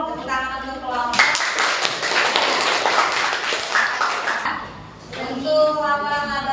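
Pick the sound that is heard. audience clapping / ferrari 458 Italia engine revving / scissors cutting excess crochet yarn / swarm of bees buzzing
audience clapping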